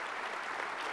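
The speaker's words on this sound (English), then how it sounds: "I ask you to give the panel a round of applause for spending some time with us." A second of steady audience applause for a panel at the 2019 Defense Intelligence Summit plenary, a soft, even wash of many hands clapping at a distance.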